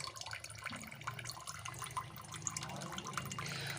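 Water runs steadily from the white and blue output pipes of an RO membrane water purifier, a continuous close splashing and trickling with scattered drips and no talk.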